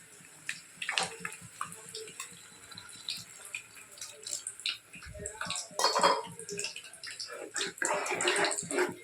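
Water splashes and trickles into a pot of tomato egg curry in short bursts, with metallic clinks and a few faint words spoken nearby.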